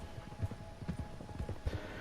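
Horse hooves clip-clop steadily at a walking pace in Red Dead Redemption 2, close and fairly loud, with no talking over them.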